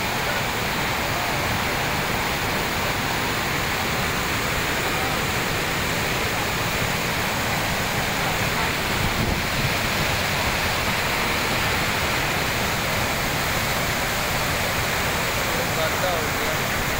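Steady rushing of water flowing across a badly potholed road, a dense continuous broadband wash with no breaks, loud and close throughout.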